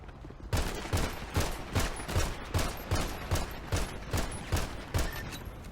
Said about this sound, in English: Gunshots at Mission Row?